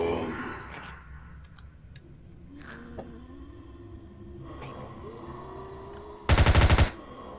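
A short, loud burst of rapid P90 gunfire in the VRChat game rings out near the end, a dense rattle of several shots after a stretch of quiet breathing and faint ambient noise.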